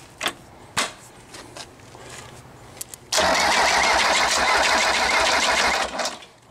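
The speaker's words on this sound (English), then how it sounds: "I don't like that sound I'm hearing in that transmission." A Mercedes diesel engine on a trailer-mounted power unit, with its transmission, turns over and fires: a few short cranking bursts, then a loud steady running roar at close range.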